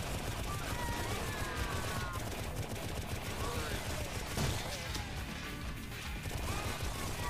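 Rapid, continuous gunfire and crashing impacts from the shooter game Painkiller HD fill a dense, chaotic barrage with no pauses.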